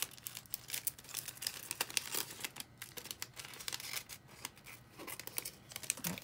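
Scissors snip a small sticker off a journaling page in quick, irregular crisp cuts mixed with faint paper crinkling, close and quiet, with no talking.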